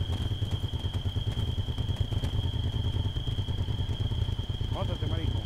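A motorcycle engine in Arma 3 chugs steadily at close range beneath ongoing voices, with a constant thin whine running over the low rumble.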